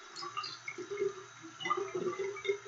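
Running hot water from a tap splashes over hands being wet for washing, a soft, steady trickle with light drips and splatter, close and fairly quiet, with no voices.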